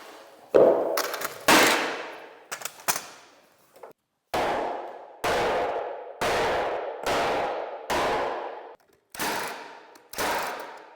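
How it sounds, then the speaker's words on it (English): Nail gun driving nails into interior wall framing in a workshop, about eight loud, sharp bangs at uneven intervals with short gaps between, alone with no talk. "that goes a lot faster if you're not scared of the nail gun"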